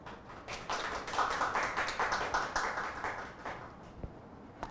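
Shareholders clapping at an annual general meeting to approve a resolution. The applause is moderately loud, with many hands and individual claps audible, and it fades out after about four seconds.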